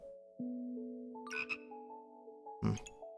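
Cartoonish toad croaks from a puzzle video game, a few short tonal croaks with sustained pitched tones between them, plus a couple of sharp bright clicks, quiet and clean with no voices.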